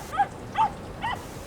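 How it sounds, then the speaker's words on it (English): Dogs barking near a beach, three loud separate barks spaced evenly apart, close by over a steady background hiss of surf or wind. "Bark, bark, bark, bark."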